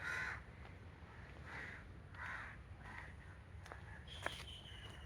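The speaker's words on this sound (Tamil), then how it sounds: "இந்த பறவைகள் சத்தத்தெல்லாம் கேட்கும்போது சூப்பராக இருக்குது" Crows caw at dawn in a Mumbai park forest, harsh calls repeating every second or so from fairly close over a low, steady ambient rumble, with no talking.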